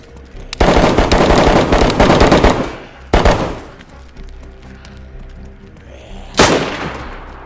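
Sniper rifle fire in the video game DayZ: a long loud rattling burst of rapid shots, then two separate sharp single cracks with echoing tails, close and alone without speech.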